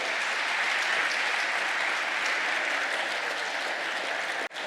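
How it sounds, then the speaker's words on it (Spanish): A church congregation claps together in sustained, dense applause that holds steady for several seconds, then cuts off abruptly near the end. "¿Puedes darle un aplauso a Dios por eso?"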